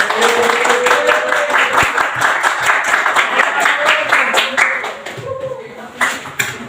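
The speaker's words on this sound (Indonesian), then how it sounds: "Mari kita beri aplaus. Tepuk tangan untuk mereka." Classroom applause for students' poster presentations: a burst of many hands clapping, loud and close, fading unevenly toward the end with voices mixed in.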